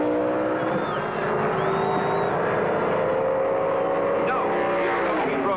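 Drag racing engines at the 1971 NHRA Winternationals in Pomona, California, a modified car launching with a big handicap, roaring loud and sustained throughout with a steady engine drone and rising pitch, under an announcer's commentary.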